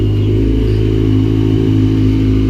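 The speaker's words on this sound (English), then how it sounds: "I want to fire my FZ8 up so people can hear it" A Yamaha FZ8 motorcycle engine idles loud and close with a steady, throbbing low rumble. The engine note stays even throughout, with no sharp rev rise in this short stretch and no voices.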